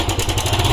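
Suzuki Gixxer SF motorcycle engine running with an abnormal noise, a close, loud idle with a steady rapid clatter and rhythmic pulsing under the engine drone.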